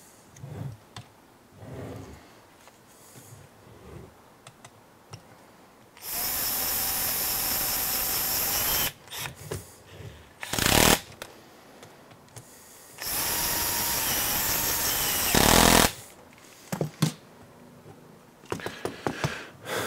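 Power screwdriver bursts driving screws into an HPI Baja 5SC SS large-scale RC car during assembly: two long, loud whirring runs and a few shorter bursts, separated by quieter clicks and handling noises, with no talking.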